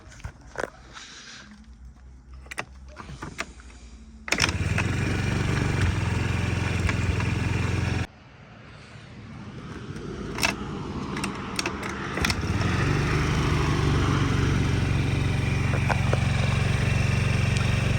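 A Honda Dio AF57 scooter, noted as idling at slightly high revs, is started with a few clicks and handling noises, then settles into a close, steady engine hum that cuts briefly and resumes running.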